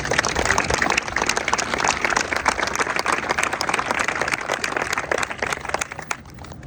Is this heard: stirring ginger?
no